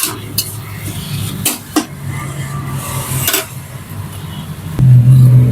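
Minced pork for a spicy holy-basil stir-fry is cooked in a wok with a little water, giving soft sizzling and intermittent scraping and clinking of a spatula against the pan, growing louder near the end.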